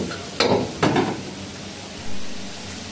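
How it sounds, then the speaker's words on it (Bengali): Vegetables dropped into a hot pan for quick restaurant-style noodles, with two sharp bursts of sizzling and stirring followed by a steady, moderate fry hiss that swells again near the end, no voices. "আমরা ভেজিটেবল দিয়ে দিচ্ছি।"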